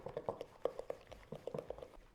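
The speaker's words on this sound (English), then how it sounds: "I'm going to grab a wooden spoon and just combine these together" Wooden spoon stirring thick pistachio paste and tahini in a bowl, with soft sticky clicks and scrapes coming in an irregular run, close and quiet.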